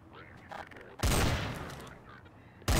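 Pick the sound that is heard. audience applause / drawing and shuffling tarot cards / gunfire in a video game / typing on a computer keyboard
gunfire in a video game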